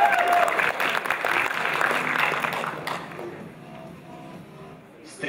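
Audience applause for a KVN comedy team at an Open League KVN game, loud and dense for about three seconds, then thinning into scattered claps and light crowd murmur.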